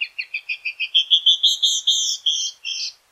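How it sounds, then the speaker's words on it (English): Female canyon wren singing a clear descending series of about a dozen rapid, bright whistled notes that slow and slur toward the end, close and alone. "many female birds do sing, even in colder climates, such as this canyon wren"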